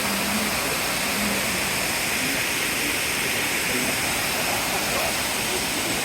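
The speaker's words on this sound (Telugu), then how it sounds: "మన ఉల్లిపిట్ట వాటర్ ఫాల్స్ మన కుమ్రంభీం జిల్లా నుంచి వెళ్ళి మనకు 6-7 కిలోమీటర్ల దూరంలోనే ఉంటుంది." Ullipitta waterfall in Komaram Bheem district roars in a steady, dense rush of falling water, loud and close, unbroken from start to end.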